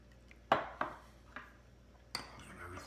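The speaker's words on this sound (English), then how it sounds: "Good stir and shake in here" Fermenting tomato seed mixture stirred and shaken in a container, a few sharp clinks and knocks spaced irregularly across the moment, each ringing briefly before fading, close and fairly quiet.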